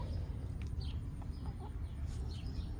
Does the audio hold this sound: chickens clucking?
yes